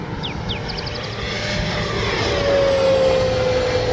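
A Kavan Bristell B23 RC plane flies past at full speed with the wind, its electric motor a loud, steady whine that rises in pitch as it nears, under outdoor wind noise.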